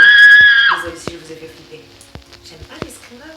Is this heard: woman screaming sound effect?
yes